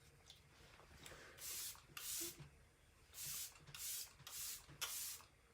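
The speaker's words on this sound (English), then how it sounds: "we're going to go in with Let It Set Refreshing Spray." Arbonne Let It Set Refreshing Spray misted over a powder makeup look, about six short soft hissing spritzes in an uneven rhythm, quiet and close.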